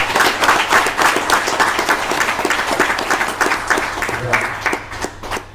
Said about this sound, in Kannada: ಎಲ್ಲರೂ ಅತ್ಯಂತ ಹುರುಪಿನಿಂದ ಚಪ್ಪಾಳೆ ಮೂಲಕ ಧನ್ಯವಾದಗಳು